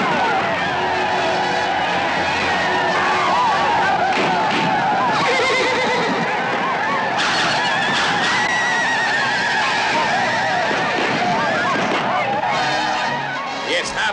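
Horses whinny and ride through a busy battle scene in a Western about the Sioux and Custer, with neighing, hooves and commotion filling the whole stretch under intermittent shouted voices.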